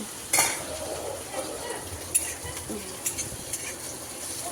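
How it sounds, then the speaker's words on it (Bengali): Beans and potato vegetable cooking in a pan, with a steady soft sizzle and occasional scraping stirs and light clinks of a utensil against the pan, fairly quiet and close. "এই যে বাতির জন্য বিনস আলু দিয়ে একটু সবজি করছি"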